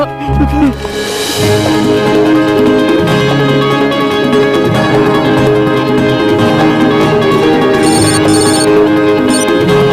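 Telephone ringing in a Bollywood film scene, a loud bright ringing that runs through the whole stretch, blended with a dense, continuous music score.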